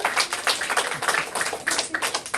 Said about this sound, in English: Let's give Yusuf Faisal a big round of applause